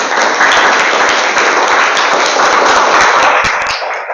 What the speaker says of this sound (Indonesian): Kita berikan aplaus atau tepuk tangan kepada kita semua.